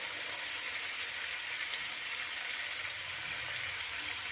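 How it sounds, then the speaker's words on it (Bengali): Spice paste with ginger, salt and a little sugar sautéing in a pan for Bengali sukto, a steady close hiss and sizzle throughout with no talking. "দিয়ে ভালো করে মশলাটা কষিয়ে নেব।"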